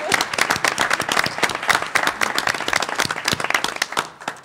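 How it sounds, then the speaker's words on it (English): Applause at a board of education meeting, a room of people clapping steadily and fairly close, dense sharp claps fading slightly toward the end. "And then we clapped."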